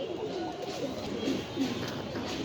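Black Budapest fancy pigeons cooing softly in a coop, low murmuring coos repeating under a faint background hum, fairly quiet and close.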